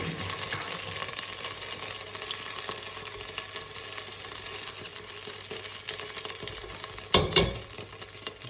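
Butter dropped into a hot pan for a hearty cream of chicken and mushroom soup gives a steady close sizzle, with a soft clunk of the pan near the end and no voices.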